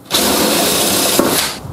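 A cordless drill bores into aluminium with a steady, dense whirring grind that runs for about a second and a half, holds at an even level, shows a brief bump in the middle, then cuts off.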